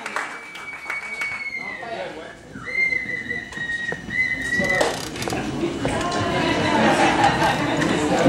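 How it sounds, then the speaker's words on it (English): Shrill whistle blasts blown by an audience at a live poetry café show ring out over a noisy, chattering crowd, with a few longer sustained tones and scattered clapping as the din grows louder. "if you like what you hear, blow the whistles that are there for you to blow"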